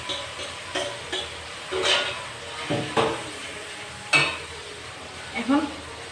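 Curd and katla fish are stirred in a pan, with intermittent scrapes and knocks of a spoon against the metal over a quiet background sizzle, heard close and spaced out over several seconds.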